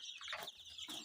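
A brood of young Sonali chicks, over a hundred, kept in an indoor brooding room, fills a brief moment with dense, overlapping high-pitched peeping and chirping, close and continuous.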